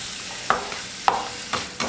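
Food sizzles and fries in a pan as it is stirred, with four distinct scraping stirs spaced about half a second apart over a steady low frying hiss, close and fairly quiet.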